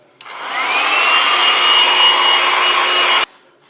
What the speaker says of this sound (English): I will speed up the drying process with the hairdryer.